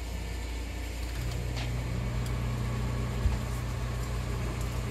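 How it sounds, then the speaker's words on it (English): A microwave oven heating potatoes for au gratin runs nearby with a steady low electric hum and constant drone, unbroken for the whole stretch, with no talking. "we'll put that in the microwave for 2 minutes to start"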